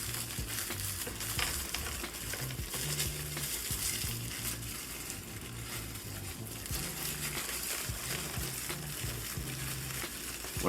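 Ritz crackers being crushed inside their package by hand, a continuous close crinkling and crunching of plastic wrapper and breaking crackers, steady and moderately loud.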